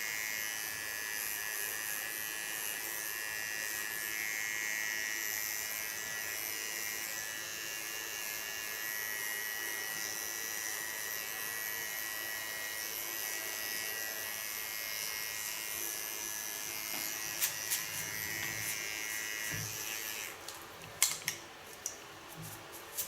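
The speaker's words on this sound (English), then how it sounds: "Now I only need the large clipper again to make some contrast into the lines" An electric hair clipper shaving the nape of the neck buzzes steadily and close for about twenty seconds, then cuts out into a few short clicks and handling noises.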